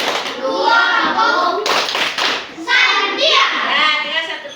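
Classroom children perform the tepuk santiang clap chant, chanting together in rhythm with bursts of hand claps mixed under their voices, close and fairly loud.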